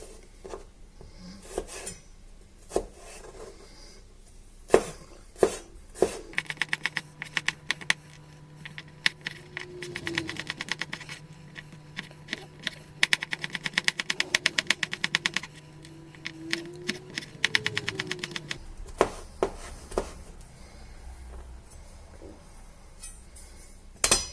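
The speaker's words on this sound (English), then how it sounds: "I'll start off by finely chopping the garlic up." A knife finely chopping garlic on a cutting board, rapid, close tapping strokes in quick irregular bursts, with a humming tone in the background through the middle.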